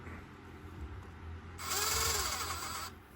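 A Makita power tool runs steadily during bushing replacement work, a smooth whirring hum that swells louder midway, holding for over a second, then drops back to a quiet background.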